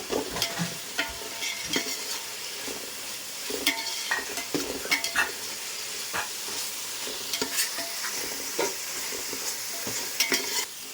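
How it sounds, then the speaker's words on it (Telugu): Tomatoes fry and sizzle in a pan for egg pulao while a utensil stirs them, giving steady crackling with repeated scraping strokes throughout. No one speaks. "బాగా ఫ్రై అవ్వాలి. ఈ టమాటాలు అనేటివి బాగా మగ్గాలి."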